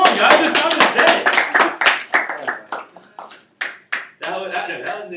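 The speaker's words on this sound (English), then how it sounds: "Give a round of applause" A small audience claps at a school persuasive speech, with a few scattered claps thinning out into separate taps toward the end, mixed with voices and laughter close by.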